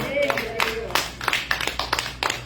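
A church congregation clapping during a Christian service, rapid scattered claps in a rough rhythm, fairly close and loud, with voices and a sustained tone under them.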